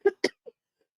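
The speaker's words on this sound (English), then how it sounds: "this cough, man, it's out of nowhere" A man who is unwell gives a quick burst of two sharp coughs followed by a softer third, close to the microphone in a quiet room.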